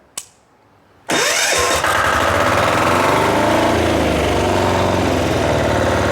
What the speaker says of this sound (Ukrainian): Шипоче дизель вейма.